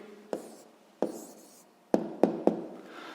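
Pen or chalk writing down the answer to a sixth-grade maths percentage problem, heard as five sharp, close taps and scratches spread over about three seconds, with no talking.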